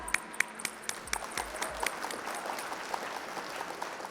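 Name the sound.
audience applause welcoming a minister to the stage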